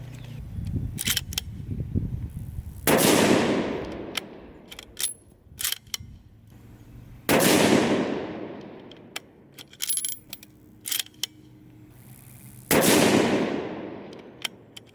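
Three loud, sharp rifle shots from a Ruger M77 Mark II in 22-250 firing Nosler 55 grain Ballistic Tip ammunition, spaced several seconds apart. Each shot rings out with a long decaying tail, and faint clicks and handling noises fall in between.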